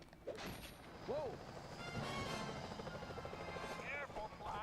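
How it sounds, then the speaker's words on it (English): Security helicopters in a Sly Cooper video game drone with a steady rotor roar beneath game effects and voices, while brief whooshing and booming sounds rise over the continuous hum. "Those security choppers are bad news."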